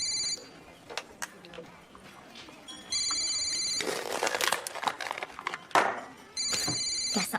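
A telephone rings in repeated electronic trilling bursts, several separate rings spaced a few seconds apart, sounding under people talking nearby.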